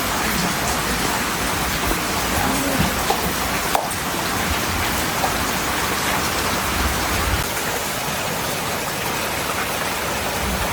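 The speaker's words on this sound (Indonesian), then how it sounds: "Nanti lah udah reda hujannya baru kita beresin." Rain falling in a village: a steady, dense hiss of rain on surfaces with scattered louder drops and taps, constant and fairly close, with no voices.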